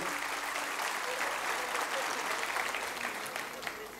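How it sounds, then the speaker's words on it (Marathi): Audience applause at a university inauguration ceremony, a sustained wash of many hands clapping, loud and even throughout and tapering slightly at the end. "एकदा आपण जोरदार टाळ्या वाजवून साहेबांचं धन्यवाद देऊयात"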